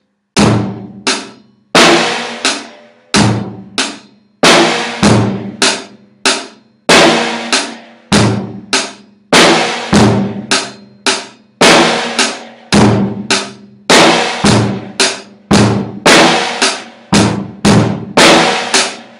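A drum kit plays a groove, with snare, hi-hat and bass drum. Punchy hits repeat in a steady, loud pattern for about twenty seconds with no talking.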